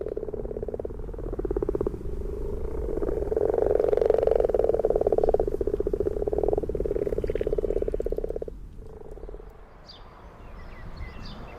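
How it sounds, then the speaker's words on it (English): A dense chorus of frogs calling in rapid, pulsing trills, swelling in the middle and fading toward the end, steady and fairly close. "That's the frogs."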